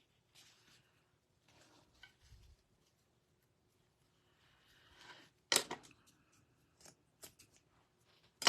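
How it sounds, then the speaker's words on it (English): Scissors trim loose strings on a sunflower pillow cover in a quiet room. There are a few soft snips early on, then several sharper, louder cuts near the end. "So we're going to trim this thing up just a little bit."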